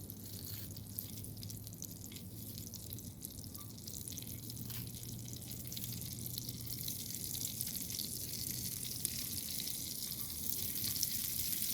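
Onion frying in a cast iron pan at a camp during a thunderstorm, a soft, steady sizzle with light dripping and hiss, fairly faint and continuous, with no talking.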